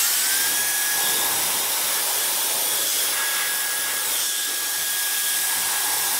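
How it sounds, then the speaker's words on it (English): A small USB electric dust blower sends a steady, continuous rushing stream of air over a telescope mirror, a close, even whoosh with a faint high whine running through it and no talk. "my favorite method, one of these USB dust blowers"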